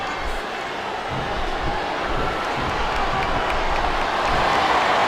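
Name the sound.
wrestling crowd chanting in WWE 2K25 video game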